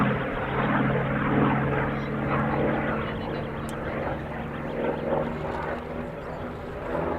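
A Hawker Sea Fury T20 propeller aircraft drones overhead at Dunsfold with a deep, steady engine roar, loud and sustained, its pitch shifting slightly as it passes.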